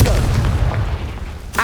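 A Confringo spell blast in Hogwarts Legacy, a loud booming explosion with a deep rumbling tail, followed by a short sharp burst at the end.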